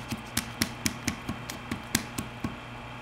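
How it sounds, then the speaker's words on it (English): A rod tamps a plug and wire mesh down into a lab column, a steady series of about ten evenly spaced light tapping knocks, close and alone over a faint background hum. "use the rod to place it into the right position"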